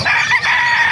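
A rooster crows loudly and close by at a chicken market, one drawn-out call filling the moment with no talk over it.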